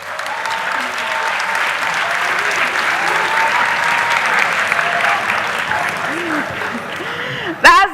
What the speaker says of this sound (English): Please clap for math consultants.